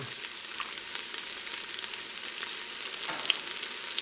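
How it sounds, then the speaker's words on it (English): Red onion sautés in olive oil inside a Ninja Foodi, a steady close sizzle with faint stirring scrapes and no talking. "we're going to add in 2 teaspoons of our red onion, and we're going to just start sauteing those down"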